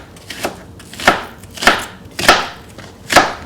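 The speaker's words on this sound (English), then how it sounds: "I'm going to cut this into smaller pieces here" A knife chopping onion into smaller pieces on a cutting board, five distinct, evenly spaced chops, close and crisp, with nothing else in between.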